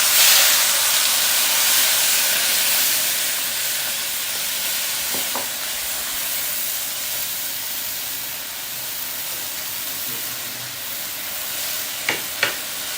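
A steady hiss of soaked moong lentils frying in hot tempering oil fills the scene, with a few sharp clinks near the end as they are stirred in the pan.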